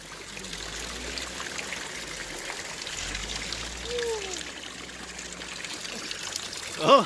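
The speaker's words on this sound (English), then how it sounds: "We cross the river again on our way back. The water is so clear" Clear river water flowing near Triveni Dham in Hetauda, a steady close trickling and burbling stream that continues throughout, with a faint voice near the end.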